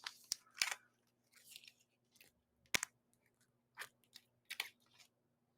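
Plastic wrap is peeled off a replacement watch crystal for a Zodiac Sea Wolf GMT, producing faint, sporadic crinkles and sharp crackles in short bursts separated by quiet gaps.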